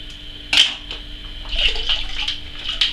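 Part A nutrient liquid pours into a turbo sugar wash, a short splash followed by a steady, close trickling pour.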